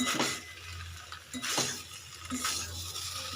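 Boiled potatoes with black pepper being stirred in a pan, a few scraping strokes of a utensil against metal with faint sizzling between them, no talking.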